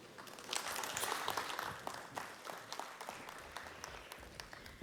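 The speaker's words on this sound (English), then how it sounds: "And keep that applause going" Audience at a business conference on AI for collections and recovery breaks into applause, a faint crackle of many hands clapping that swells early then gradually thins out.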